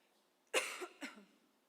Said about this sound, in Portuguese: esse microfone tem que desligar para tossir